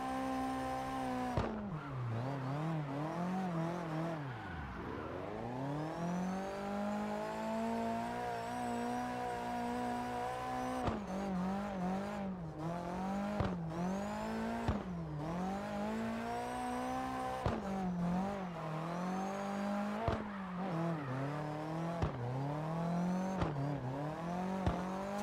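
Car drifting in CarX Drift Racing Online, game engine revving and bogging in repeated swells with tire squeal and sharp clicks between slides, loud and continuous with no talk.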